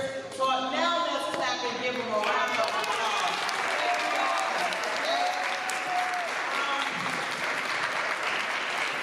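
A crowd at a school gathering about race and culture applauds steadily and loudly throughout, with voices and cheering mixed into the dense clapping.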